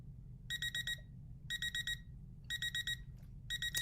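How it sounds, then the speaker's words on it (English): A kitchen-style timer alarm beeps in bursts of rapid electronic pulses, about one burst per second, sharp and clear over a quiet room hum; no one speaks. "when that timer goes off"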